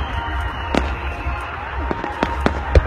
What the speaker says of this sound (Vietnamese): Đây là lần cuối của đợt pháo hoa ngày hôm nay rồi.